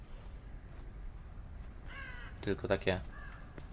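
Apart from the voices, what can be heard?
ravens cawing in the video game The Evil Within 2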